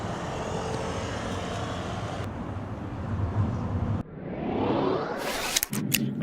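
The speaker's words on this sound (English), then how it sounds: "I'm in the cab now, heading to the airport." A cab heading to the airport gives a steady, loud road and engine rumble that carries on throughout, with a shift partway through and a brief rush of brighter noise near the end.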